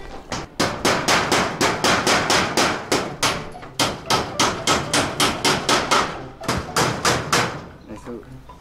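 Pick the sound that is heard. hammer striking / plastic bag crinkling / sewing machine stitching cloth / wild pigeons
hammer striking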